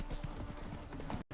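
Horse hooves clip-clop steadily in the video game Witcher 3, rapid rhythmic thuds of a trotting mount close by, with faint game ambience and brief speech-like noise mixed in.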